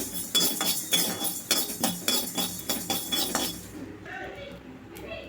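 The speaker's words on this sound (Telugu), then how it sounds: "చూడండి ఈ విధంగా చిట్పట్టు సౌండ్ అయితే రావాలండి ఆవాలు" Mustard seeds spluttering in a hot pan: quick, sharp pops and crackles in close, irregular bursts for a few seconds, then thinning to a few faint snaps as the pan quiets.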